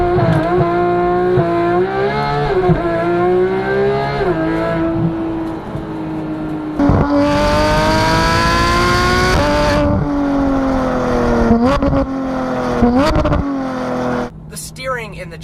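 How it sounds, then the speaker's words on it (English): A 2015 Porsche GT3's flat-six engine, fitted with an IPE F1 exhaust, revs loudly and close up, its pitch climbing and dropping through repeated high-rpm sweeps and shifts, then cutting sharply near the end. "this car has a IPE F1 exhaust system that is out of this world fantastic"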